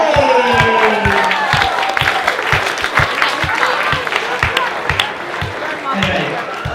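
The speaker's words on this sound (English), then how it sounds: "round of applause for Auntie Kate" Wedding guests applaud and cheer for an aunt after a wedding speech, with steady, lively clapping throughout and voices and cheers mixed in as the clapping carries on.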